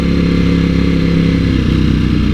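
An Italian superbike engine drones loudly and steadily up close in a tunnel, its low rumble shifting slightly in pitch as the rider pops the throttle and downshifts.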